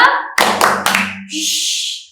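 Children's rhythmic clapping in a clap-count game: a few sharp hand claps in a quick burst, mixed with voices and a sustained tone before and after.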